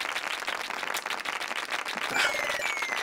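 Crowd clapping sound effect from the video game Pokémon Mystery Dungeon: Explorers of Sky, a dense patter of applause with scattered sharp claps, joined by faint tonal game chimes toward the end.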